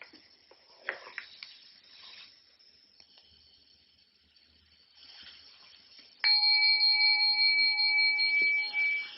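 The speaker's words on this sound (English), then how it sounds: "You see the bell came out of nothing, floated off, and then stopped being a sonic echo" A bell-like tone sounds suddenly from near silence and rings loud and steady with sustained harmonics, then cuts off toward the end; faint quiet clinks and rustles come before it.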